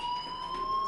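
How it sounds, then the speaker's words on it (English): A fire alarm sounds inside a school in the video game Life Is Strange, giving off a steady, high electronic tone with a faint hum beneath it, moderately quiet. "do you hear that fire alarm?"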